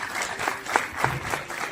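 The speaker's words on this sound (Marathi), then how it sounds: "जोरदार टाळ्या सरांसाठी." An audience at a Marathi film event in Satara applauds the director. The clapping is dense and steady, with a slight rise and fall throughout.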